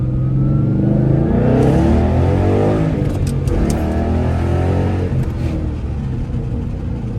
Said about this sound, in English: let's drive this thing so you guys can hear that beautiful 5-liter V8